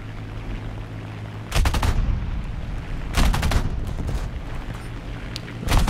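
Machine-gun bursts from a Fiat CR.32 biplane in War Thunder air realistic battles, three loud rapid-fire volleys of about half a second each, spaced over a steady engine drone with no talk.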